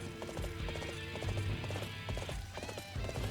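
Horse hooves clip-clop in steady rhythm during Dynasty Warriors 8 gameplay, with whinnies, loud and continuous over busy game music and effects.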